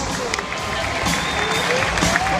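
A stadium crowd at the 2017 World Championships in London applauds and cheers for Venezuelan triple jumper Yulimar Rojas, a steady wash of clapping and crowd noise that holds at an even level throughout.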